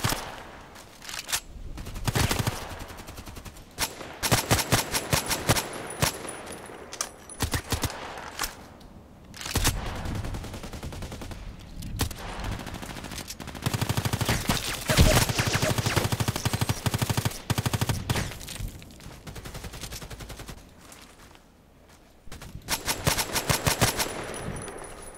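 Gunfire in the online shooter Contract Wars, loud rapid automatic bursts and single shots repeating almost nonstop at close range, with brief lulls between volleys.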